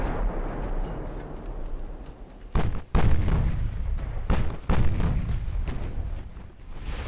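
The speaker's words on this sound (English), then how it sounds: "One massive ship with guns firing every which way." Battleship main guns firing in the naval game Ultimate Admiral: Dreadnoughts, several heavy booming salvos a second or two apart over a continuous low rumble of battle.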